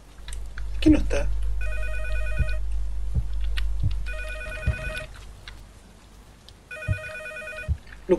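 A telephone rings in three electronic bursts inside a room in Cycle, a low-budget P.T.-style horror game, heard over footsteps, thumps and background rumble while a person talks.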